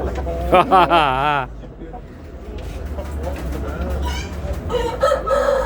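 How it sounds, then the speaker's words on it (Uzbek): A nearby rooster gives one loud crow, then a noisy crowded background with murmuring voices follows, and more bird calls come near the end. "Tez opadan xo'rozlar."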